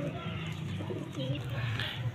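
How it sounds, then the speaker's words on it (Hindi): Pigeons in a pet shop coo softly and repeatedly in low throaty phrases, faint under someone talking close by. "एक जी ये वाला कबूतर है"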